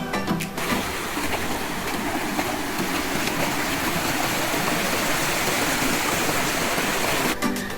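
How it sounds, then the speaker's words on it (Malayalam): A small waterfall below the Calicut airport runway pours as a steady, loud, broadband rush of falling water, continuous and close, with no voices. "നല്ല ഭംഗിയാണ് ഈ ഒരു വെള്ളച്ചാട്ടം കാണാൻ"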